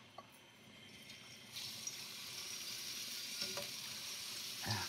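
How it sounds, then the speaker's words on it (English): Squash pieces frying in vegetable oil give a steady sizzle that swells louder partway through, with a few sharp crackles and spits near the end; no talking. "Let's fry the squash now. Vegetable oil."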